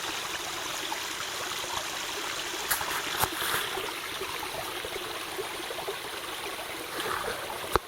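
A low creek flows steadily, a broad continuous rush of water with soft trickling and a few faint splashes and knocks, close and unbroken throughout.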